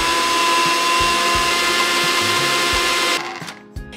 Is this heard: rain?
no